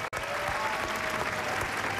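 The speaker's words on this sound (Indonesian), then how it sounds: "Kita kasih tepuk tangan untuk Meitan ya." Studio audience applause on a dating game show, a dense, loud burst of clapping that fills the whole two seconds after a brief cut at the start.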